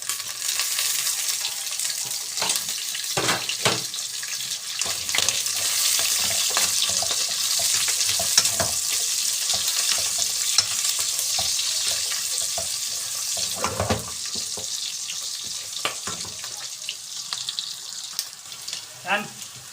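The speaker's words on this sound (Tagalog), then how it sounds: "Magigisa na tayo. Yan. Pagin na natin yung luya at saka bawang." Ginger and garlic sautéing in a pan for pakbet: a continuous bright hiss and sizzle of frying, broken by clinks and scrapes of stirring, close and steady for the whole stretch without talk.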